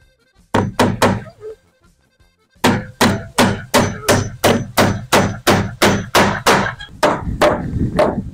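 Wooden wall panels being hammered on around a door frame in a Swedish-style wooden cabin: a few sharp blows, a pause, then a steady run of about a dozen loud, evenly spaced thuds, ending in rougher scraping knocks.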